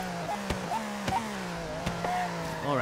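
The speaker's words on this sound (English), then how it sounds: "Oh, this car sounds so good, man. It's a screamer." Racing car engine in the video game Forza Horizon 3 revs high and drops repeatedly through gear changes, a sharp rising whine broken by quick shifts, moderately loud with a faint voice at times.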